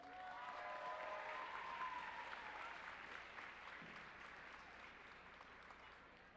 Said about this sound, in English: let's hear it for our competitive cheer team